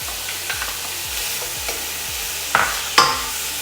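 Bacon goes into melted salted butter for a seafood chowder and fries with a steady sizzle, while a utensil scrapes and stirs through the pan with several sharper clatters near the end. No voices are heard.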